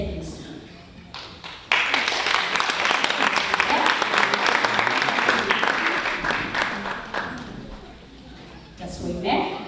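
Applause from an audience at a teaching excellence awards ceremony for a winning high school teacher, a dense wash of many hands clapping that swells loudly for several seconds and then fades, with a voice over a speaker before and after.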